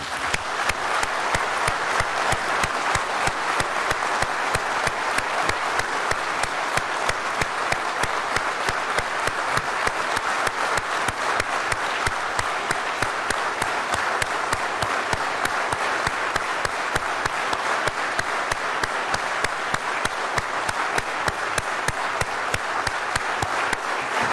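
Large audience applauding for Ukrainian talents at a Shevchenko prize ceremony, dense sustained clapping that stays steady and loud throughout.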